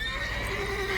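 A horse whinnies in The Witcher 3 video game, one sustained, close neigh filling the short moment with no talk over it.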